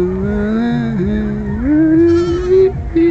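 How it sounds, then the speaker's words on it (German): Fat-tailed sheep out on a street give a wavering, bleat-like cry held for about three seconds, close and fairly loud, with a faint background hum. "hier sind erstmal Fettschafe auf der Straße"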